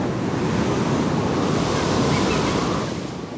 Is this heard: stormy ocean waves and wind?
yes